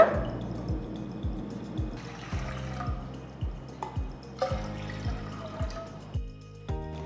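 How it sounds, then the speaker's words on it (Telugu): Water poured into a pan for ragi porridge lands in a close series of watery plops and drips with small ringing splashes, spaced unevenly over several seconds in a quiet kitchen. "క్వార్టర్ కప్ రాగి పిండికి నేను మూడు కప్పుల నీళ్లు పోస్తున్నాను"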